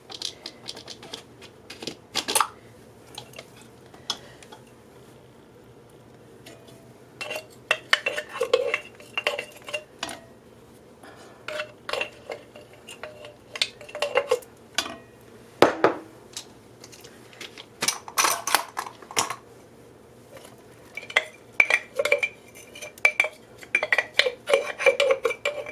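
Green peppers and onions tossed into half a pound of ground beef in a cast iron skillet, with a long run of close metallic clinks, scrapes and taps from a utensil against the pan, uneven and busy, with no talking.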